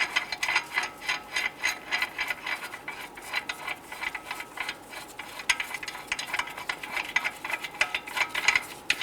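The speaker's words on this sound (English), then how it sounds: "Go ahead and remove the lug nuts." Rapid clicking of a ratchet wrench backing lug nuts off the front wheel hub of a 2002-2008 Dodge Ram 1500 pickup, quick repeated pawl ticks in short bursts, close and fairly loud.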